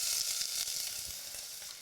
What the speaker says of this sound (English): In goes my chopped onion.